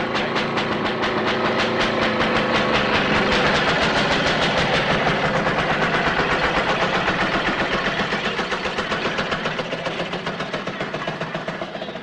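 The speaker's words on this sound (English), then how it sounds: "Trains come through the tunnel." A train rumbles through a tunnel on a 1965 film location, a loud, steady roar with rapid rhythmic clatter that holds throughout and eases slightly toward the end.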